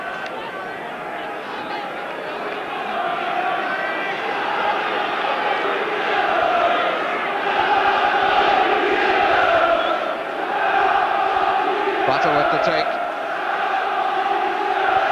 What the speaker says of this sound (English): And some good support from the home crowd.